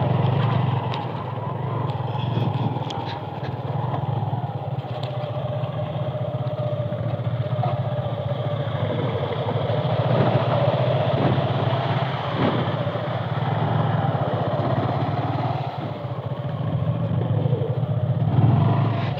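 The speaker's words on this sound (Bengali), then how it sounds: "ঝিরির রাস্তা দিয়ে বাইক রাইড করে যাচ্ছে।" A motorcycle engine rides along a rough stream-bed path through hilly terrain, its steady low rumble continuous and fairly close throughout, with faint clatter from the uneven ground.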